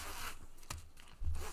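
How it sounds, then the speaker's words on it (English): A zipper on a sewn City Slicker II bag being worked back and forth, giving short close raspy zips with a brief pause between strokes and a stronger pull near the end. "I just want to double check that the zipper functions"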